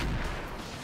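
A single heavy gunshot rings out in the tactical shooter video game Roguepoint, a loud boom at the start that quickly decays into a rumbling tail.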